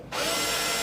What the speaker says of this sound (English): so I can pretty much drill anywhere